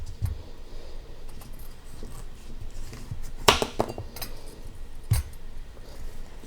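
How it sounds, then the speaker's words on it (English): A knife slices peeled squash into 3/4-inch rounds, giving two sharp, distinct cuts against a board over a quiet room hush. "we're going to cut it into 3/4 inch slices"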